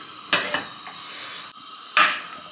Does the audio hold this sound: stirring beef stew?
yes